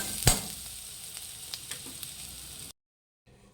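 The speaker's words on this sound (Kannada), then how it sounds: "ಈರುಳ್ಳಿನ ಒಂದು ಸ್ವಲ್ಪ ಫ್ರೈ ಮಾಡಿ ಎಣ್ಣೆಯಲ್ಲಿ" Sliced onion frying in hot oil for a dhaba-style goat head and legs curry: a close, steady sizzle with a few light stirring clicks, then a sudden cut to silence before a faint return.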